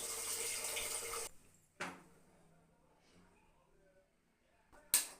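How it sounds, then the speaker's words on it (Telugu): Tap water pours steadily into a vessel of rice for washing, running for over a second before cutting off, followed by a couple of sharp clinks and knocks in an otherwise quiet kitchen. "ట్యాప్ వాటర్ అందులో వెయ్యు"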